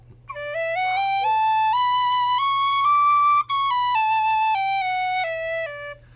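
A tin whistle plays a clear, bright stepped run of notes rising through the octave transition and back down, each pitch held briefly, solo and close, with a momentary break in the middle.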